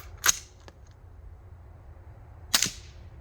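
Two suppressed subsonic 5.56 rifle shots, each a short sharp crack about two seconds apart, outdoors with faint background noise between them.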